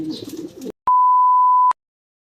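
As a racing pigeon enters its loft, a single clean electronic beep rings out alone for almost a second, loud and steady, after a short burst of rustling, cooing-like noise.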